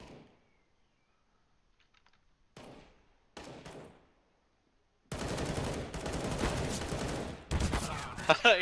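Rapid bursts of gunfire from the video game Counter-Strike, with a few short isolated shots early on followed by long, loud sustained automatic fire near the end.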